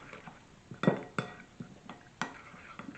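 A spoon stirs lime juice dressing for a crab, green mango, cucumber and coconut salad, clinking against a bowl in a few sharp taps with softer scraping between, close and fairly quiet.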